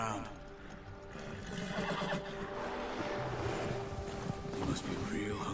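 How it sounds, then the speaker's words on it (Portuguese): A horse in Red Dead Redemption 2 whinnies in a near, loud call over hoofbeats and wind, while someone talks throughout. "O cavalo tá bravo, mano."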